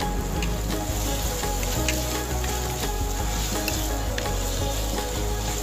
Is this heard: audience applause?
no